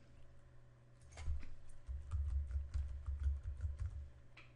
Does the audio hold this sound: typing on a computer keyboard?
yes